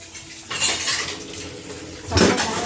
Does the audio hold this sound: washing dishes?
yes